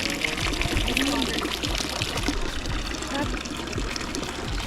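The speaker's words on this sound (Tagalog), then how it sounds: "Dito kami tatabaw ng tubig kasi pwede kang uminom dito." Cold water flows continuously from a public drinking fountain in Zermatt, Switzerland, a close, steady splashing trickle while a person talks briefly over it.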